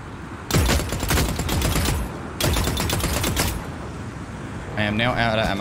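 Gunfire in the video game The Cycle: Frontier: two loud sustained bursts of rapid automatic fire, each lasting over a second, followed by a brief mechanical rattle, with a voice speaking near the end.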